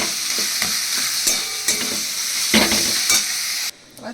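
Leafy note greens fry in a little oil in a pan, crackling with a close sizzle while a utensil scrapes and stirs in several distinct strokes before the sound suddenly cuts off.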